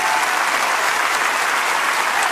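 Church congregation applauding during a worship service, a steady, loud and even roar of many hands clapping with no break across the whole moment.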